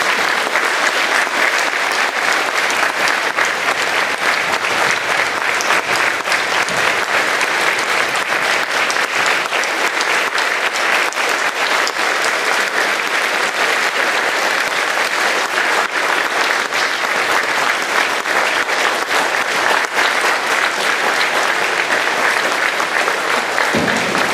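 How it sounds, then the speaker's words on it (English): A school assembly audience gives veterans a long final round of applause on Veterans Day, a loud, even, unbroken roar of clapping that holds steady for over twenty seconds with no speech over it. "Let's give these veterans one final round of applause before we go back to class."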